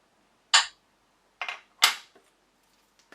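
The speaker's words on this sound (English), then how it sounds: "I'm gonna stamp that down." A rubber stamp pressed down onto card, giving three sharp, close thumps followed by a few faint small knocks and taps in a quiet room.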